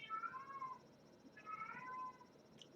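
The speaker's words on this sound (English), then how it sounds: "we're being serenaded by one of the cats at the moment" A house cat meows twice, soft and drawn out, with a short pause between the calls. It sounds close by against a quiet room.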